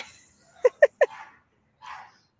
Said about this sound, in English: my neighbor's dogs that are barking like maniacs.